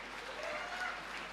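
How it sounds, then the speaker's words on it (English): Brief burst of audience applause for a student at a motivational talk for NEET exam aspirants, a dense, even patter of clapping across the short moment. "give a big round of applause to Lingaraj"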